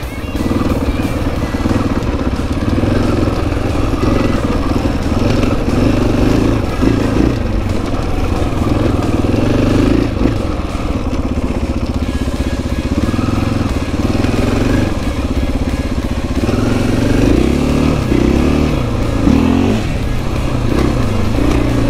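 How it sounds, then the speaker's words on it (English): A 2020 KTM 500 EXC-F dirt bike runs steadily and loudly through a bumpy whooped trail, its engine droning close throughout with small surges and rattles as it hits the bumps. "it's a dirt bike"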